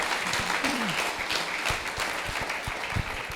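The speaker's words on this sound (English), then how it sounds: "Round of applause for Deepak" An audience at a monthly meeting keynote claps for speaker Deepak Raghavan, co-founder of Manhattan Associates, in a dense, even burst of applause that carries through the whole stretch with no talking.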